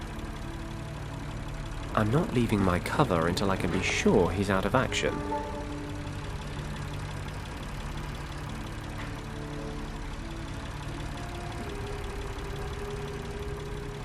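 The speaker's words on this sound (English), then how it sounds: "Judging by the engine noise and the smell, there are diesel generators in this shed." Diesel generators running inside a shed in a video game, a steady low engine drone heard throughout, with someone speaking over it early on.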